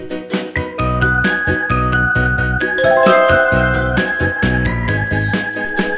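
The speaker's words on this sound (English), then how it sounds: "B for bell." Bright bell-like jingling and ringing tones sound over a bouncy preschool music backing, loud and rhythmic, with no voices.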